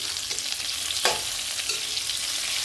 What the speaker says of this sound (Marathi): आपल्याला पूर्ण वांगे परतून घ्यायचे